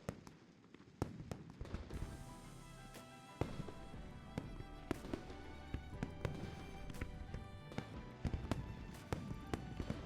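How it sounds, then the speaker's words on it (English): Fireworks going off in the video game Love and Deepspace, with repeated sharp pops and crackles scattered over a steady music-like backdrop, fairly quiet overall. "Do you want to set off fireworks in Hungling City?"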